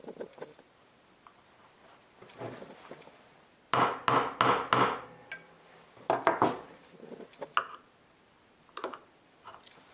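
T-nuts are tapped into a woodshop mobile base, producing a quick burst of four sharp close metallic-wooden knocks, then a few more scattered taps and handling clatter.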